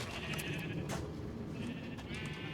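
Sheep bleat repeatedly on a sheep farm in a video game, several wavering calls in a row over a dense, busy background.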